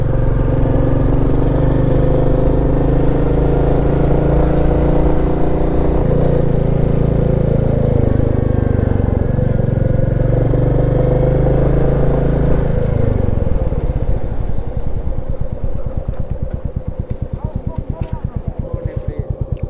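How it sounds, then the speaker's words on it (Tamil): Royal Enfield Meteor motorcycle engine running while riding, a steady loud mid-low rumble that changes pitch partway through, with a rapid pulsing thump toward the end and talk heard throughout. "நான் இப்போ தான் ஃபஸ்ட் டைம் மீட்டியார் ஓட்டுறேன்"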